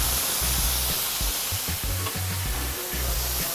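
Fish frying in hot oil in a pan, a steady, loud, close-up sizzle with faint crackles throughout and no voices.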